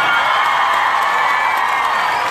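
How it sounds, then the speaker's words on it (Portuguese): Crowd at a concert in Ciudad del Este roaring with sustained cheers, whoops and applause, a dense loud wash of noise with no break. "Eu queria pedir uma salva de palmas pra vocês."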